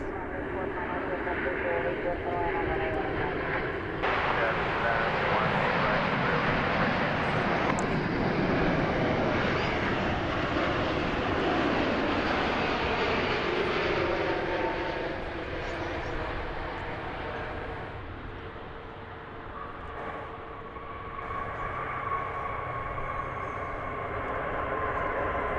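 An Air Canada Cargo airplane roars steadily at an airport, a loud broadband engine rumble that swells and then eases slightly, with people talking faintly underneath.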